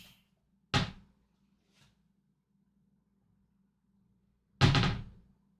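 Wooden cabinet door on a desk that sits crooked, opened and shut with two distinct knocking thuds a few seconds apart and a faint tap between, close and alone against a low hum.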